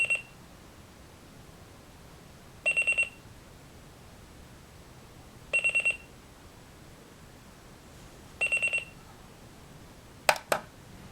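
A Sony Dream Machine alarm clock sounds its alarm as four short bursts of rapid electronic beeps spaced about three seconds apart, followed by a couple of sharp clicks, close and clear in a quiet room.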